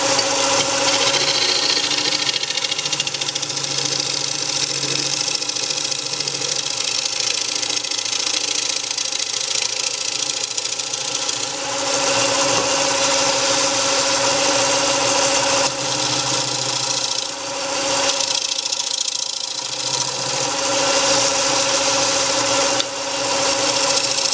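A wooden bowl spins on a wood lathe at around 900 RPM, giving a loud, steady motor hum and whir with a faint rubbing texture from the tool, close and continuous without speech.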